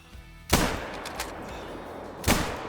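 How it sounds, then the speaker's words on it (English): Two loud, sharp rifle shots ring out in the hunting video game theHunter: Call of the Wild, roughly two seconds apart, each a sudden crack with a brief echoing tail over quiet ambient background. "Ooh, that was a good shot, surprisingly."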